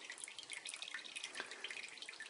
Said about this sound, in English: To let all that whey drip into that bowl.